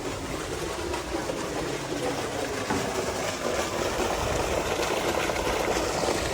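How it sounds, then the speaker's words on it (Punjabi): Electric water pump motors running on a maize farm, a loud, dense, continuous droning roar with rushing water mixed in, steady and unbroken from start to finish. "ਤੀਸਰੀ ਮੋਟਰ ਵੀ ਆਪਾਂ ਇਧਰੋਂ ਚਲਾਤੀ ਤੇ ਮੇਨ ਮੋਟਰ ਦੋ"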